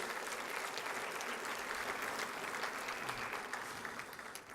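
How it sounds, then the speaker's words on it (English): An audience at a city's State of the City address gives a round of applause, a steady, even wash of many hands clapping throughout, heard from a distance at low volume. "let's give it a round of applause for their great choice"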